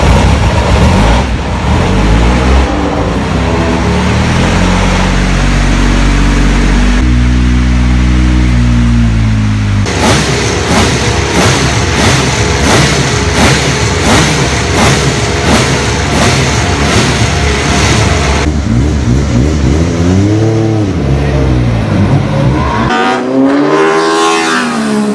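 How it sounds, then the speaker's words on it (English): An Alfa Romeo 155 V6 Ti DTM race car, a rare 12,000 rpm touring car, cranks and fires up, then revs hard in repeated loud, sharp bursts before dropping back to a rough idle, close up with no talk. "I guess you want to hear that engine sound?"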